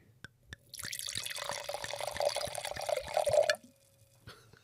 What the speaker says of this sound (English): This is the sound of Chardonnay.